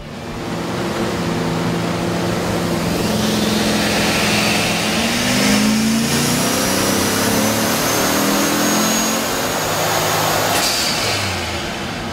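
A 2010 Chevrolet Camaro SS with an LS3 V8 and a Turbonetics turbo kit revs hard, a loud, sustained roar with a turbo whoosh and rising engine tones over a dense wash of noise.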